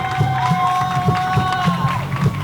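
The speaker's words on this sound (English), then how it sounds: "You hear this Herman's Hideaway crowd there behind both competitors, Still Life and Solo Darling" A women's wrestling crowd at Herman's Hideaway cheers and shouts continuously, a loud, busy roar with rhythmic thumps and some voices rising above it.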